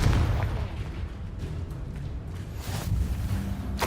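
Confringo blast spell cast in Hogwarts Legacy, a dense rumbling burst of booming impacts with a couple of brighter crackling hits, loud and close, no voices.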